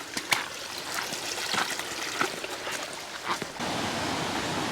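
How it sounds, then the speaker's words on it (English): Creek water rushing down over rocks on a national park track after flooding, a steady broadband wash with splashy bursts, fairly close and alone with no talk. "water just pumping down over there"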